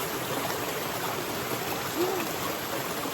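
River stream water flowing steadily at a countryside bathing spot in Jamaica, an even broadband rush that stays close and constant throughout, with no talk.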